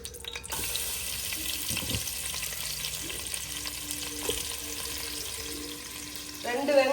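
Green chilies and onion frying for a chicken biryani made with seeragasamba rice and country chicken, a steady sizzle with occasional stirring clatter, close and continuous, with no talking.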